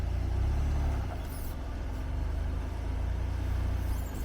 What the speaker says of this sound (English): So let's climb some rocks.